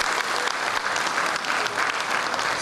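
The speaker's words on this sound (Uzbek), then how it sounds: "Bitta qarsak bo'lsin." A concert crowd in Fergana bursts into loud, dense applause, a full continuous roar of clapping hands filling the hall for a few seconds.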